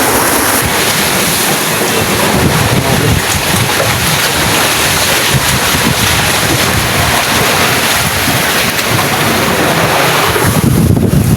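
Heavy surf and strong, gusting wind roar together during a typhoon at sea, a dense, loud and continuous wash of crashing waves and buffeting wind noise with no letup.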